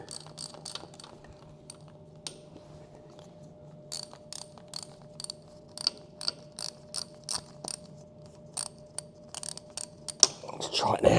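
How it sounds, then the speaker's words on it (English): A bolt is undone on a Haas VF3 spindle gearbox, giving a run of sharp ratcheting clicks in irregular bursts over a low steady hum, ending in a louder clatter. "This one bolt typically keeps going loose then tight as it undoes."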